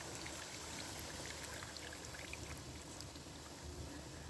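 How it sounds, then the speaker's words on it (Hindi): Mutton stock, or yakhni, pours steadily into a cooking pot for aloo gosht, a soft, continuous liquid rush and trickle with no talk over it. "मैं इसके अंदर ये यखनी डालने लगी"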